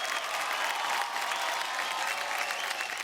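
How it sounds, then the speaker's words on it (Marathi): A crowd applauds a dancer's performance on a Marathi television dance show, with sustained, even clapping heard at moderate distance, softly and without a break. "जोरदार टाळ्या होऊनच जाऊ द्या"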